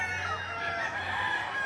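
Chickens at a poultry market in Padre Garcia, Batangas, a steady layered clucking and crowing from several birds, fairly loud and continuous with no talk over it.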